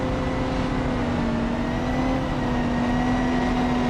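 A race car in a GTWS race at Monterey sweeps through the corkscrew with a steady, loud engine drone whose pitch sways slightly as it holds through the turn.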